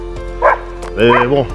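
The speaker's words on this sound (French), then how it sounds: "excusez-moi pour le chien" A dog barks nearby outdoors beside an old railway station: two short, sharp barks with a pause between, while someone speaks French over them.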